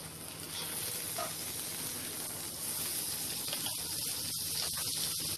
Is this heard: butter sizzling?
yes